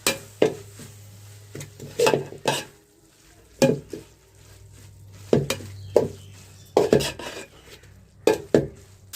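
A spoon stirs garam masala into biryani in an aluminium pot over a wood fire, making repeated metallic scraping clanks in uneven bursts between brief pauses.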